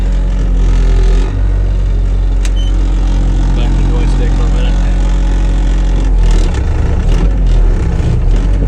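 A cold tracked vehicle's motor labours and stalls in snowy conditions, a loud, heavy low rumble running steadily throughout, with a rougher surge and sputter near the end.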